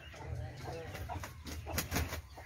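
A rooster and his hens cluck and mutter close by in a small backyard flock, short irregular calls rising over low rumbling background.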